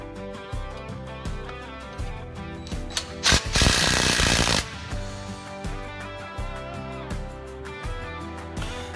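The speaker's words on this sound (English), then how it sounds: "Once this is accomplished, you can tighten your motor bolts down." A ratchet wrench clicks in quick, even strokes while tightening the motor bolts on a Warrior portable sawmill, close and crisp, with a brief louder burst of rattling in the middle.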